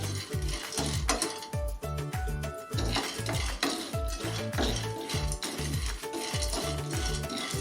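Peanuts being dry-roasted in a pan and stirred continuously, producing a rapid rattling, scraping rhythm of nuts and spoon against metal, loud and close with no talking.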